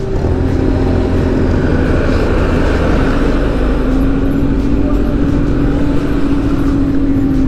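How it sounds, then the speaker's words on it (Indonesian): A truck hauling asphalt rumbles at roadworks on a main road, its steady engine drone and broad traffic roar loud and continuous throughout, with no clear pauses. "Nah, ini mobil truk yang memuat aspal."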